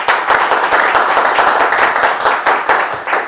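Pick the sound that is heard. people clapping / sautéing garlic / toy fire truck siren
people clapping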